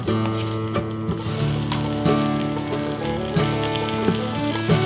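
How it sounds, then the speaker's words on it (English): Butter sizzles against the hot inner pot of an Instant Pot while browning a roast, a continuous bright hiss with scattered pops and crackles, fairly loud and close with no talking. "I wanna hear the butter really sizzle whenever it hits"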